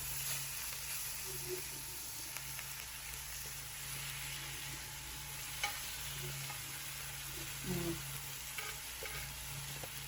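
Meat frying in a pan just after being flipped, a soft continuous sizzle with a few scraping stirs and one louder clatter near the end, fairly faint and without speech.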